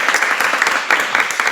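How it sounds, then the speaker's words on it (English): An audience claps together after speakers finish their remarks, a dense steady patter of many hands close and loud for a short burst, with no talking over it. "give them a clap, please"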